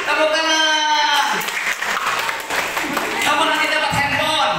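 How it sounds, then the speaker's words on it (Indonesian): An audience at an Indonesian Sunday school Bible lesson breaks into steady applause that carries on across the moment, loud and close, mixed with children's voices. "Tepuk tangan."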